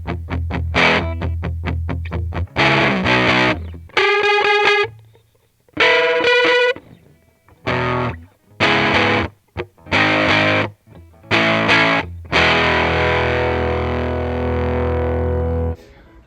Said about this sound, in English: I just wanted a distortion pedal so I could emulate going from clean to a distorted sound